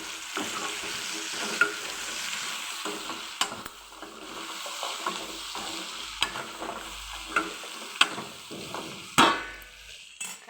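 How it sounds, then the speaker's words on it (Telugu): Chopped broad bean and tomato pieces sizzle and fry in a pan, stirred with a utensil that clanks sharply against the metal every second or two, close and steady with no voices. "కలుపుకున్న తర్వాత మనం ముందుగా కోసి పెట్టుకుని చిక్కుడుకాయ ముక్కలు టమాటా ముక్కలు వేసేసుకుందాం."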